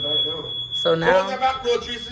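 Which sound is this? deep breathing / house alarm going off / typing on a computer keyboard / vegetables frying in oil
house alarm going off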